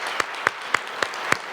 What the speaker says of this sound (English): let's give a big round of applause to all of our panelists